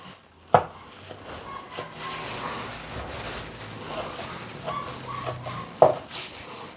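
Pork sisig with egg frying in a hot pan, a soft, steady sizzle with occasional scraping and stirring, and two sharp knocks of a utensil against the pan.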